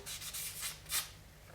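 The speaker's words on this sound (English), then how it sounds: "I'm using a fine sanding sponge here." Fine abrasive rubbing of a fine sanding sponge on sterling silver in short scratchy strokes, a soft hissing rasp repeated several times close by, with one louder stroke near the end.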